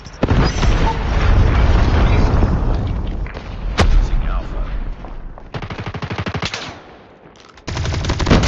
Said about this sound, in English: Hostile predator missile inbound.